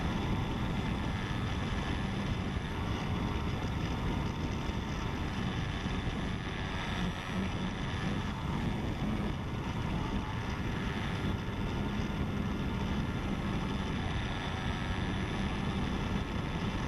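A slow Ultra Stick RC airplane flies in gusty desert wind, its small engine droning steadily for the whole stretch under a heavy rush of wind, with no pauses or voices.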